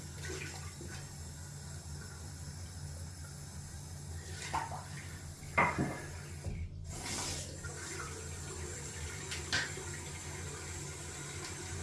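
Tap water runs steadily at a sink while shaving gear and a brush knot are rinsed out, with a few clinks and splashes partway through.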